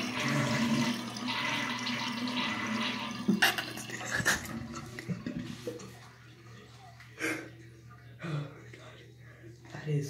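Water rushes steadily into a 1989 American Standard Cadet toilet tank, filling past the water line, then tapers off into faint trickles and drips while people talk intermittently nearby.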